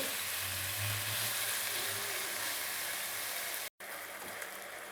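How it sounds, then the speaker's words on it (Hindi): Chicken pieces frying for shashlik in a pan, a steady close sizzle with hiss running throughout, broken by a brief silent gap near the end before resuming. "अब मैं इसे 2 से 3 मिनट के लिए अच्छी तरह से भून लूँगी ताकि चिकन का कलर जो है वो चेंज हो जाए।"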